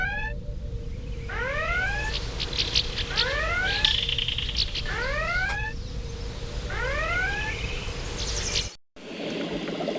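A red alert alarm from the Star Trek: The Next Generation – A Final Unity game sounds in repeated rising electronic whoops, several cycles in a steady rhythm, loud and alone before cutting off abruptly.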